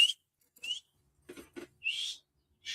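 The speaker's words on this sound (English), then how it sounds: "The cats recognize that whistle, and they come running." A person whistles to call cats outdoors, giving several short, high, clear whistle notes with gaps between them, plus a few faint softer sounds in between.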